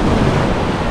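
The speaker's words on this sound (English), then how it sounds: "it's really cold and the waves are just dashing" Cold ocean waves dash and roar close by at the Storms River mouth on the Tsitsikamma coast, a dense, continuous wash of surf mixed with wind buffeting the microphone throughout the brief moment.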